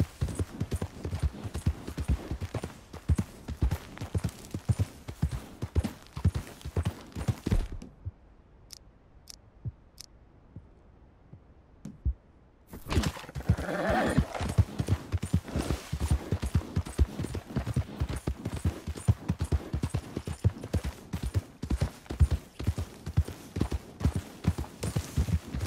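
Horse hooves clip-clop steadily on the ground in the Red Dead Redemption 2 video game, a brisk, continuous rhythm of close, clear hoofbeats that pauses for a few seconds of near quiet midway and then resumes at the same pace.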